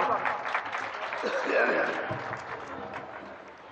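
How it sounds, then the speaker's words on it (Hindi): Audience at a mushaira poetry gathering applauds to welcome a poet to the stage, moderate clapping throughout with a voice talking over it. "जोरदार तालियों से स्वागत"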